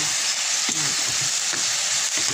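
French beans are sautéed in a pan with oyster sauce, giving a loud, continuous sizzle close by, with soft periodic clicks and scrapes from the stirring utensil.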